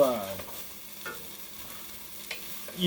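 Garlic and onions sizzle in a hot pan for a rainy-day chili, a soft steady frying hiss with a few faint stirring scrapes, close and fairly quiet, with no one talking.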